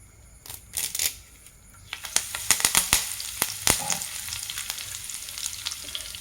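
Curry leaves frying in coconut oil for a Bangude mackerel fish curry: scattered sharp crackles and pops over a steady sizzling hiss, growing busier after the first couple of seconds, close up with no talking.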